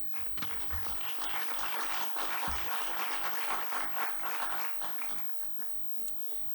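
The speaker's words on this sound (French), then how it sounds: "Vous pouvez l'applaudir à nouveau" An audience at an energy policy conference claps in a sustained round of applause, a dense wash of many hands that swells and then gradually thins out, with no voices over it.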